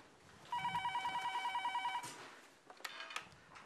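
A telephone bell rings in a rapid trill for about one and a half seconds, loud and close in a quiet home, then gives way to handling clatter and brief knocks.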